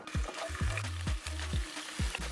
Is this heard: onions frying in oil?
yes